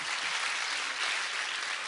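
Steady applause from the audience at a Daegu citizens' roundtable meeting, a dense even patter of clapping that holds without pause for about two seconds.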